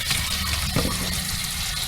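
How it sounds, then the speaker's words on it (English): Water running from a leaking kitchen faucet in an RV, a steady close rushing splash with a brief louder gush partway through. "Faucet's leaking all over."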